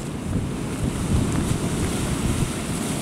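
Sea waves slap and wash against an overloaded barge out at sea, a steady, rumbling surge of surf mixed with heavy wind buffeting, continuous and fairly loud with no talk.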